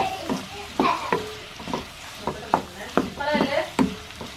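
Tomato and green chilli for a chicken curry are stirred in a frying pan: a faint sizzle runs under repeated sharp scraping strokes of a spoon against the pan at an uneven rhythm.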